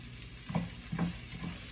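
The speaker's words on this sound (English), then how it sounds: "Let's get our onions. And we're going to saute those guys up" Onions sautéing in bacon drippings in a pan, a close hiss of frying punctuated by three or four distinct spoon scrapes and stirs in quick succession, with no talking.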